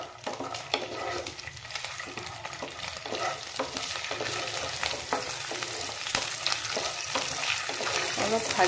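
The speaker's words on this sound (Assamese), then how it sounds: "মই অলপ ঘিউ দি দিছোঁ ড্ৰাই ফ্ৰুটছখিনি ভাজিবৰ কাৰণে" Cashews, raisins, peanuts and almonds frying in a little ghee for suji halwa, a continuous close sizzle with repeated scraping stirs, no talking over it.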